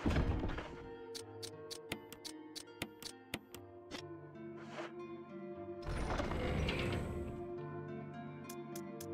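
Shotgun being reloaded in Resident Evil Remake, a rapid run of sharp mechanical clicks and thunks, close and distinct, over a steady game ambience that swells later.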